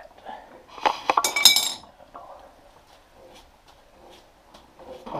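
Metallic clinks and a bright scraping jingle as a cotter pin is pushed into the castle nut on the front wheel of an IH 300 Utility tractor, a short close burst followed by faint handling noises.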